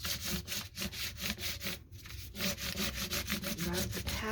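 Pattern rubbed onto an index card over textured packaging, a steady rhythmic back-and-forth scraping, close and fairly loud, with no voices.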